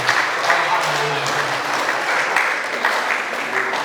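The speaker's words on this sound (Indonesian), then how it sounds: "tepuk tangan" Students clapping together at a school ceremony, the installation of a new student council, a dense steady applause that holds at an even level throughout, with some voices mixed in beneath it.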